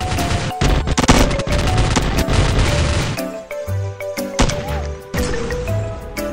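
AKM assault rifle gunfire in a shooter game, dense loud bursts of automatic fire for the first three seconds, then scattered heavier single booms and shots with short gaps between them.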